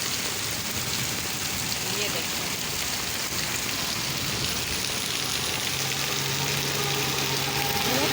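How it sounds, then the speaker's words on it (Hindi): Heavy rain pours down in Murree, a dense, constant hiss of falling water on surfaces, loud and steady throughout, with someone speaking briefly over it. "कितनी बारिश हो रही है माशाल्लाह से"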